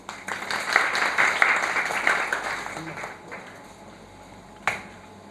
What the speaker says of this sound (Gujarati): અજીતભાઈને જોરદાર તાળીથી વધાવીએ.